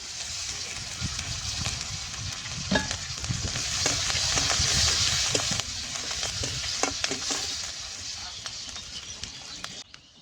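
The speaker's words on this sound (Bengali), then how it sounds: "পেঁয়াজের মরিচটা ভাজা হয়ে গেছে" Onion and green chili frying in mustard oil in a home kitchen, a steady sizzle with clinks and scrapes of a stirring spoon throughout, fading near the end.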